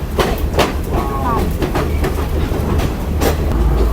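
A train slowly crosses high valley country on the Nuwara Eliya to Ella line in Sri Lanka, heard loud from inside the carriage with a steady rumble and repeated clickety-clack wheel beats. Voices murmur faintly underneath.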